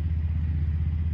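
A 1980s Yamaha YTM200 three-wheeler with a factory carburetor runs with a steady, close, low engine rumble and a faint rhythmic throb, with no talk.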